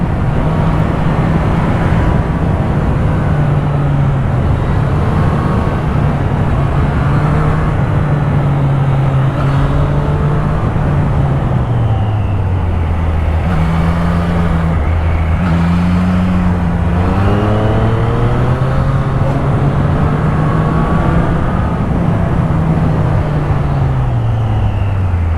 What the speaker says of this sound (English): Where are all these cars coming from?